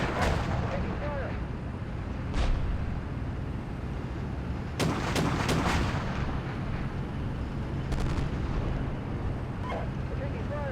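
Battle simulation video game gunfire and artillery fire: a steady rumbling din with sharp bursts of shots and distant booms recurring throughout, loudest in a cluster near the middle, with a voice shouting over the combat.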